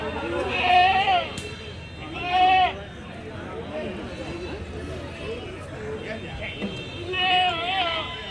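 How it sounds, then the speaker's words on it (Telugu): Goats at the Kadiri goat market bleating in several loud wavering calls, nearby and repeated, over a background of people talking and market chatter. "బాగుంటాయి మేకలు"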